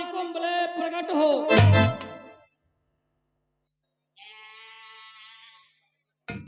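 A man imitates a goat with his voice, giving loud wavering bleats, then a pause of silence and a quieter, thinner bleat, with a brief sound right at the end.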